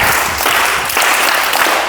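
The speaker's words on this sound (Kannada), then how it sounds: "ಅವ್ರಿಗೆ ಚಪ್ಪಾಳೆ." A crowd at a summer camp gathering breaks into loud, dense applause, many hands clapping together in a steady burst that fills the whole moment.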